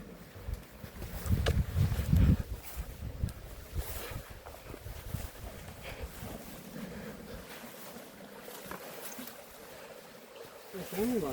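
River Medlock flowing through a narrow rocky gorge below crags, a continuous rushing water and wind wash close by, with brief louder surges early and near the end.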